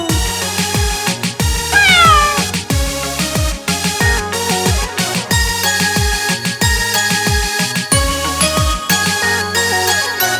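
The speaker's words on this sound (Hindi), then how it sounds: "बिल्ली करती म्याऊं म्याऊं" Cartoon cat meows ring out over a bouncy, tuneful musical backing, recurring throughout a lively children's nursery rhyme song.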